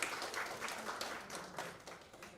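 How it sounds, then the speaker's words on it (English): Scattered applause from a faculty audience at a school training session, fairly faint and thin, a few clusters of claps rising and fading over a couple of seconds with a murmur beneath. "big round of applause there"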